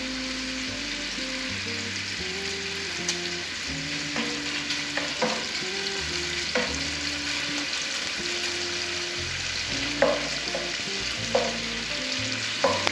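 Bacon frying crisp in a pan, a steady close sizzle and crackle with occasional utensil clicks and stirring scrapes, no talking.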